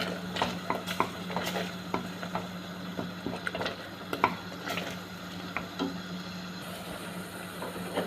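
Spiced kofta, seasoned with salt, coriander, pepper and cumin, being stirred in a frying pan, with a steady sizzle under repeated scraping and clinking taps of the utensil against the pan.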